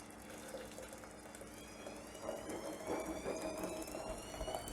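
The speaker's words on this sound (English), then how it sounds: "All right, so we're going to fill this with hot water." Hot water pouring into a brewing kettle while making an IPA, a steady gushing rush that swells louder midway and continues to the end, with no talking.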